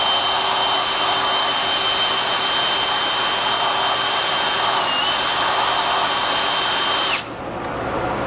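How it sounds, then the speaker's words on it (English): Power drill spinning a 3/4 inch socket through an adapter to wind bench vise jaws in and out, a loud steady high whine held continuously before cutting off near the end. "you can just run it out with a drill"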